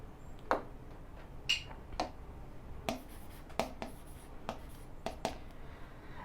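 Chalk or marker taps and short strokes on a board during a thermodynamics math lesson, a series of about a dozen sharp, brief clicks and scratches spaced irregularly in a quiet room.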